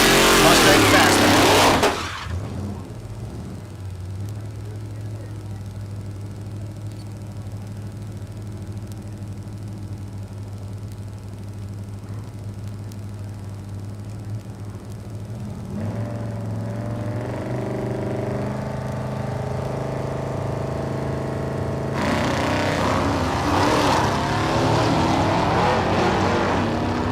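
A Ford Mustang Fastback on a drag strip at Mid America Dragway, a loud burst of engine at the start, then a low steady idle and a rising engine rumble later, with a commentator talking over it.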